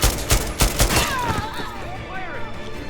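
Turret gunfire in the Far Cry 6 video game, a quick burst of heavy shots in the first second, followed by trailing echoes and faint game sounds, with someone talking under it.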